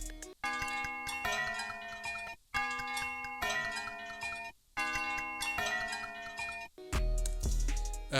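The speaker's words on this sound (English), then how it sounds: "This is really just a sort of bell preset that I found on the Korg M2." A Korg M2 bell preset synth plays chiming, sustained bell notes in separate phrases with short gaps between, bright and resonant, followed by a lower, different-sounding hit at the end.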